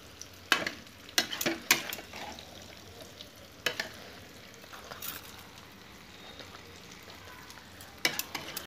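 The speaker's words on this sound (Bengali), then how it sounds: "ভালো করে নেড়ে নিলাম।" Labra, a mixed vegetable dish for a temple offering, is stirred in ghee in a pan. Scattered spoon scrapes and knocks come in short bursts over a low, quiet sizzle.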